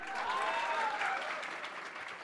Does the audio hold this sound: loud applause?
yes